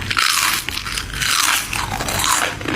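Crunchy, wavy spicy seaweed chips are bitten close to the mic, giving a loud, dense, crackling crunch that runs continuously with no voices.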